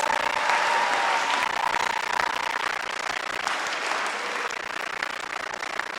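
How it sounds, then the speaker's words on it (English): Steady crowd applause at a grade 12 graduation ceremony at a Khalsa school in British Columbia, honoring the class of 2026, with a dense, even clapping texture sustained throughout at moderate loudness. "let's have a round of applause and samjukare for our graduating class of 2026."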